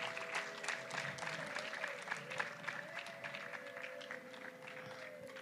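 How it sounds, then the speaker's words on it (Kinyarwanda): Guests at a Rwandan wedding celebration give a modest round of applause, soft scattered clapping at some distance, with a sustained musical tone running underneath. "Ntimwakoma amashyi mwabantu mwe?"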